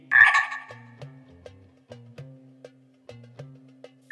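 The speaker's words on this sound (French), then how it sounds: "coassa la grenouille" A frog croaks in a children's animated story: one loud call at the start, then a steady series of low, rhythmic croaks pulsing every half second or so against a quiet background.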